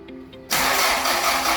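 A diesel engine on a fishing vessel, started after glow plug preheating, cranks over with a sudden roar after a short quiet stretch, then settles into a loud, steady idle.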